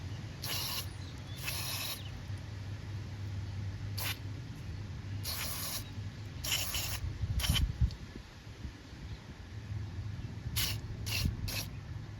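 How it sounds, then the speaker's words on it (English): MAF sensor cleaner sprayed onto the mass air flow sensor of a Lexus GX470 makes a string of about ten short, sharp hissing bursts in uneven groups, over a low steady background hum. "just hit it with a stream. The instructions say about 10-15 times or 10-15 sprays"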